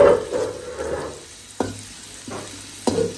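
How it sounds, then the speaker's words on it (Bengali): A spoon scrapes and stirs food frying in a pan, a steady sizzle running underneath with a couple of sharp knocks of the spoon against the pan. "রেগে রেগে চামচ নাড়তেছে"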